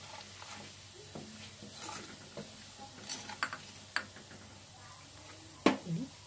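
Crushed spices fry in hot oil for an egg roast, a soft sizzle under scattered scraping and clinking as a spoon stirs the pan, quiet and close.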